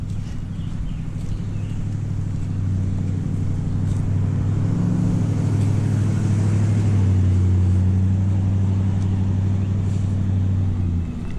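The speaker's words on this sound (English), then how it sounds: "it's going to be a loud truck coming up behind us." A loud truck approaches from behind and passes on a campground road at Falls Lake Recreation Area, its deep engine drone building steadily, peaking near the middle and holding strong before easing slightly at the end, with no talking.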